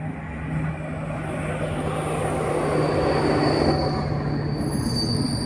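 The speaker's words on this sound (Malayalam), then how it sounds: "തൊട്ടടുത്തൂടെ ട്രെയിൻ വരുന്നുണ്ട്" A passenger train, an Intercity, rumbles past close by, its wheels squealing in a loud, sustained roar that swells steadily.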